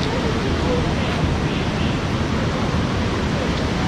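The flooded Shivnath river near Bhilai, Durg, in spate in 2022, rushes past as a loud, constant, broadband roar of churning water heard up close.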